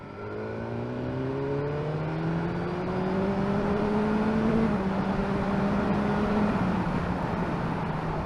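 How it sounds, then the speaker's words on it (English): A BMW S1000R motorcycle accelerates up a steep hill in third gear: the engine note climbs steadily and loudly over several seconds, with a rising whine and wind rush. "We're going up a fairly steep hill. I'm going to leave it in third gear."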